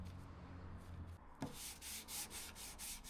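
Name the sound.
lightly sanding glued 2x4 wood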